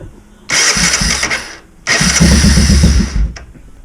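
A Honda Fourtrax ATV with a freshly rebuilt starter cranks in two loud, close bursts, the second catching into a rough engine run before cutting off, with a brief quiet gap between the attempts.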